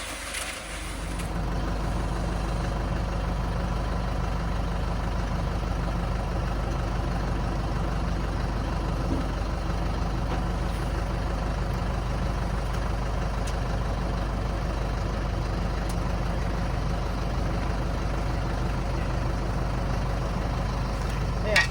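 A TRIDENT tractor drives across a paddock with a PTO-driven cement mixer, giving a steady loud low engine drone with rumbling and rattling throughout and no pauses.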